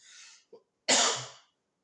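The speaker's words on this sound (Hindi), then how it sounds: "माफ कीजिएगा थोड़ा खांसी आ रही है" A single sharp cough, close and abrupt, preceded by a soft breath and followed by silence.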